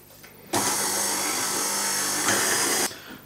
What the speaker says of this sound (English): should have put the egg whites in the mixer with the cream of tartar and whisk them till they're sort of foamy